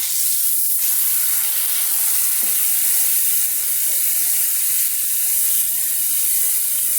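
A smashburger patty sizzles steadily on a hot flat surface just after flipping, a constant bright hiss of frying fat with a few faint scrapes and taps underneath, close and fairly loud with no talking.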